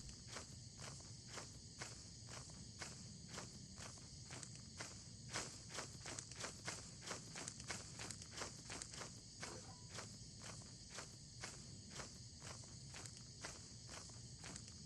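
In the horror video game Lethal Company, a monster's footsteps thud in a steady, repeating rhythm for about fifteen seconds over a constant insect-like drone of cricket chirps, faint and without talk.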